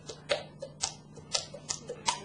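Sharp clicks repeat in an irregular rhythm, about eight or nine distinct ticks spaced roughly a quarter second apart, close and fairly quiet over a low steady hum.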